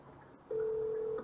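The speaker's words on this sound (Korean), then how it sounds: "전화가 되네요, 전화" A single steady telephone ringing tone sounds for under a second, clear against a quiet background.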